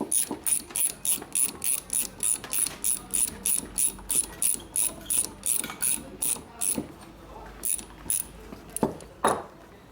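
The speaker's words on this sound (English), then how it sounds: "And we're going to tighten the screws up." A hand ratchet tightens screws during a 1999 80ci Evo motorcycle chassis rebuild. About twenty quick, evenly spaced clicking bursts come close and clear, then slow to a few final clicks with light clunks.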